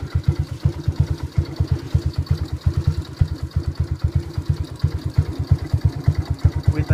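A 2008 Shogun Pro 125 motorcycle fitted with a DBS carbon fiber race pipe idles close by, its exhaust popping in a steady, even low throb with no talk.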